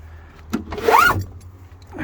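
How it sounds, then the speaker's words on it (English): A manual wind-up window on a rough Chevrolet S10 truck door gives one short squeaky rising screech as it is cranked, with a couple of faint clunks just before it. "Here's our wind-up window"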